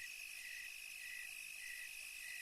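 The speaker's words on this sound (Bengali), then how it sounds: "নিশিকালো অন্ধকারের মাঝে শুধু ঝিঝি পোকার ডাক কানে ভেসে আসছে।" Crickets chirp at night in a dark, deserted village, a faint, steady high trill that pulses evenly and continues without pause, with no voices.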